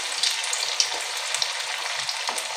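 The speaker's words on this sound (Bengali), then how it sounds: "এভাবে আমি তেলের মধ্যে একটা একটা করে দিয়ে দেবো।" Fish chops sizzling as they go one at a time into hot oil, a steady bright crackle with small bubbling pops throughout, close and fairly loud.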